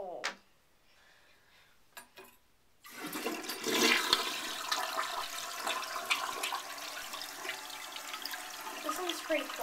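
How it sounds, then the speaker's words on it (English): A 1982/1986 Eljer Emblem toilet flushing, opening with a click from the handle, then a fairly quiet rush of water that swirls and keeps running steadily, heard close up with no talking over it. "This one's pretty quiet. I would say this is one of the quietest toilets I've seen."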